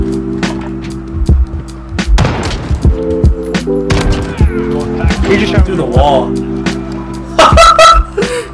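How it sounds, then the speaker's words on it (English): Gunfire punching through a wall in Call of Duty Warzone: a rapid string of sharp, loud shots and thuds in bursts, close and heavy, with a steady low hum underneath and a player's voice talking between shots. "He just shot me through the wall."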